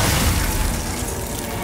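The Glacius ice spell is cast in Hogwarts Legacy: a loud, dense burst of crackling, shattering noise that stays fairly steady and slowly eases off.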